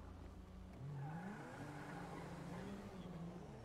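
A game car engine revs in a rising and falling whine, one continuous mechanical drone that climbs in pitch, then dips and climbs again, fairly quiet and heard alone.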